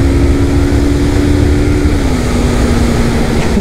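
A Suzuki GS500E motorcycle engine runs with a steady, loud drone and a sustained tone that dips slightly in pitch partway through, with no talking over it.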